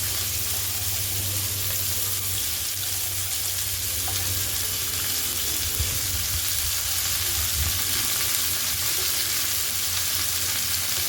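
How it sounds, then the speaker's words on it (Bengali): Steady oil sizzle from potato and beetroot frying in a pan, continuous and close, with occasional stirring scrapes and no talking. "কেটে রাখা আলু আর বিট দিয়ে দেবো দিয়ে ভালো করে তেলের সাথে মিশিয়ে নিতে হবে"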